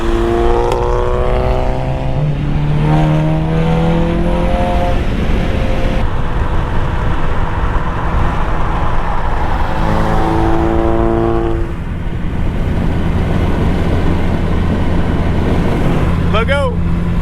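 Two tuned Volkswagen GTI MK7 hatchbacks, a Stage 2 with an IS20 turbo and a Stage 3 with an APR IS38 turbo, accelerate hard in a roll race. Loud engines rev and rise in pitch through repeated gear changes, with wind and road noise throughout.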